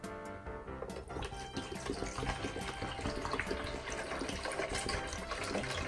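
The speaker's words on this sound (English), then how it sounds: "So what we're gonna do, Lo, is we're gonna put some water in here." Water poured into a child's toy container during a toy unboxing, a continuous splashing and trickling stream running throughout with bright irregular droplet spatters, fairly close and quiet, with no talking.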